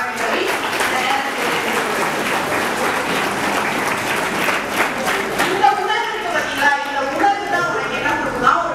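A college Republic Day audience gives teachers sustained applause, dense clapping that holds steady throughout, with a few louder claps and crowd murmur toward the end.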